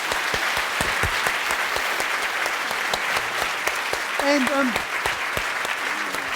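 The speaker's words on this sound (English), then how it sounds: "I'd like to propose that we all clap." Lecture audience applauding at a cooking science lecture, steady sustained clapping filling the hall, with a few brief words from a speaker over it.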